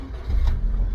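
A Rover 25 engine idles smoothly and steadily nearby, a low, even hum with no revving.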